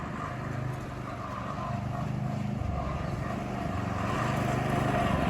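Small 6.5hp Carter two-seater go-kart engine, model 2336ZX, idling at low RPM around 1500, a steady close putter with faint irregular pulsing and no talk over it.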